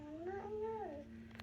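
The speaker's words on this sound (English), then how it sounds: "There is a cat saying meow." A single drawn-out cat meow from a children's sound book, rising and falling over about a second, fairly faint against a low electronic hum.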